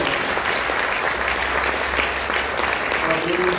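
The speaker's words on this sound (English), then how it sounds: "give a big round of applause to all our investors here" Sustained applause from an audience of investors at a public company expose, loud and steady throughout, with a voice speaking over the clapping.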